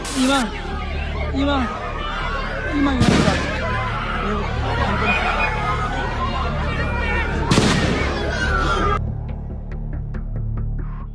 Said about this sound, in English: Some reported up to 50 rounds being fired before the gunman was silenced.